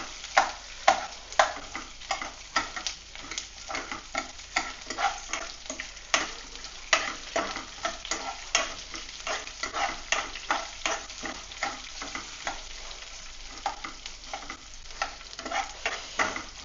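Small split onion pieces frying in a pan for coriander rice, a continuous close sizzle punctuated by frequent rhythmic stirring clicks and scrapes throughout.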